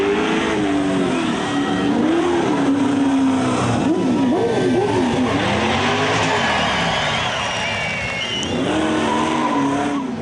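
Greg Murphy's V8 Supercar accelerates through a slalom run at the Clipsal 500, its engine rising and falling in loud revving sweeps with tire squeal, up close for the whole stretch.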